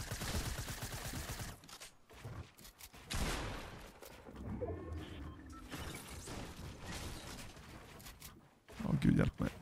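Gunfire in the video game Fortnite, bursts of shots and impacts rattling throughout amid excited spoken reactions from a player.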